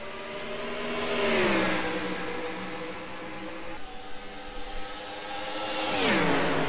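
Race cars in a video game at Indianapolis Motor Speedway for a Brickyard 400 race, engines roaring loudly as they sweep past with rising and falling pitch, a continuous whine of several cars close by.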